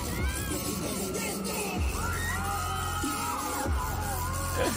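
A dense crowd of screaming fans fills the air at a busking performance at Taipei Main Station, with rising whoops and yells riding over a steady, loud din and occasional thumps.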